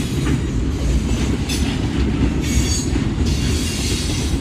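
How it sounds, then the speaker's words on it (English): A Norfolk Southern manifest freight train rolls past the Central Avenue crossing in Metairie, its wheels rumbling and clacking loudly and steadily up close, with a few brief squeals. "This is the second train of the day in Metairie."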